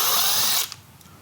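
A power drill briefly whirs at high speed unscrewing a screw that holds a wooden board to a window frame, then cuts off abruptly into a near-quiet room with a faint click.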